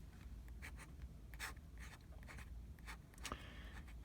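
A pen or pencil draws on paper close up, quiet scratchy strokes in short bursts separated by brief pauses, with one longer stroke near the end.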